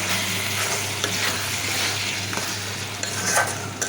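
Shutki, dried fish, stir-fried in a pan gives a steady, close hiss of frying with occasional scraping stirs, heard alone without talk.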